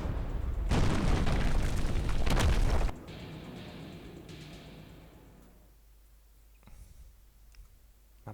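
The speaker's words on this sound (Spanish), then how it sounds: "con Patrick herido debido a la explosión" A loud, heavy explosion in the video game Terminator: Resistance booms for a few seconds, then fades into a lingering rumble with scattered faint debris sounds and no talk.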